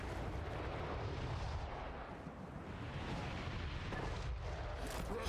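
Cannon fire in Total War: Warhammer 3 rumbles as a dense, continuous roar of booms and explosions, heavy and far-reaching with no clear gaps between shots.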